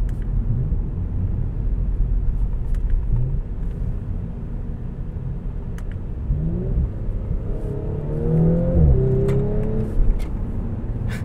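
2018 Audi S4 Premium Plus accelerating hard, a steady low engine rumble that rises into a climbing rev toward the end, with no talking over it.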